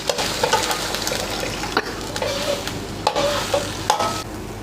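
Chicken with holy basil stir-fries in a pan with repeated scraping stirs and clinks over a loud, steady sizzle, up close with no speech.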